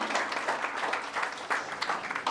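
Audience at a preschool annual day event claps steadily for an honoured guest, a dense, even wash of many hands that holds throughout, with no talk over it.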